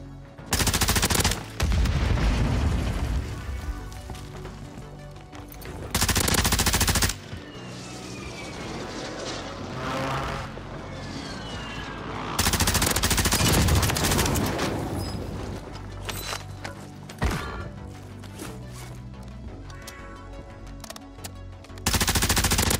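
Loud gunfire bursts from a glitched Tempest Razorback shotgun in the Warzone video game. Several dense, close blasts come in separate clusters with quieter game noise between them.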